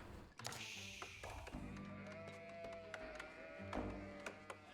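Sheep bleating in the Age of Empires 4 video game, a few short game bleats mixed with soft in-game taps and thunks against a steady low background.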